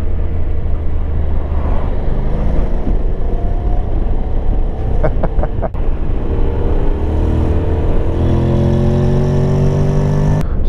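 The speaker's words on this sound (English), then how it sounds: "There you go, plenty of poke for the country lane overtake." A Honda Forza 750 scooter accelerates hard to overtake on a country lane, its engine note climbing steadily under loud, constant wind roar from an onboard position, with no talk.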